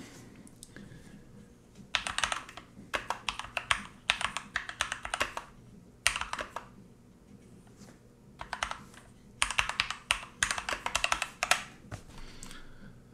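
Typing on a Keychron K2 V2 mechanical Bluetooth keyboard, with close, crisp clacking keystrokes in several quick bursts separated by short pauses.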